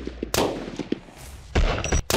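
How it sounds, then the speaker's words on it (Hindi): Repeated gunshots come from all sides in an attack on a man stepping out of a white car, with sharp loud bursts separated by short gaps and a dense cluster near the end. "तभी अचानक उन पर चारों तरफ से ताबड़तोड़ गोलियां चलाई जाती हैं।"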